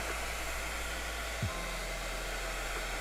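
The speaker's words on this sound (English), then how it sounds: "I meant bloody hairdryer time." A hair dryer blows steadily with a constant whooshing drone, close and unbroken, with a brief bump in pitch partway through.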